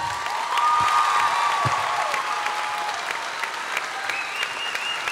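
Audience applause fills the Stravinski hall at the Montreux Jazz Festival for the Kids Voice Tour final, a steady wash of clapping with some cheering, while a bright sustained tone rises and glides above the crowd.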